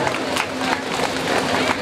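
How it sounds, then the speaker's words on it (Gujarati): Audience applause at a Bhagavat katha religious discourse gathering, a steady dense wash of clapping from a crowd, loud and continuous with some voices mixed in. "તાળીઓના ગડગડાટથી વધાવી લેશું."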